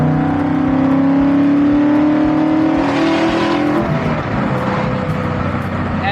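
A naturally aspirated classic car engine with a manual gearbox revs high while driving, its whining tone climbing steadily, then dropping as it eases off, loud and close throughout.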